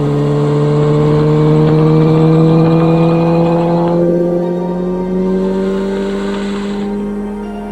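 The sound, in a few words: Kawasaki Ninja H2 motorcycle accelerating to overtake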